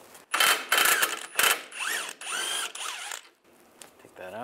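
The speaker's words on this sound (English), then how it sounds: "We're going to take the bottom sway bar link bolt out, use a 16 millimeter socket." A hand ratchet with a 16 mm socket loosens the lower sway bar link bolt on a 1999-2005 Volkswagen Jetta, giving several close bursts of rapid clicking with short pauses and a few metallic squeaks between them.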